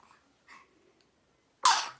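A single sharp sneeze from a woman indoors, abrupt and fairly loud, preceded by a couple of faint breaths in an otherwise quiet room.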